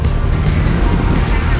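Heavy street traffic rolls through Merida's city centre in Mexico, a dense, steady roar of engines that holds level and fairly loud the whole time.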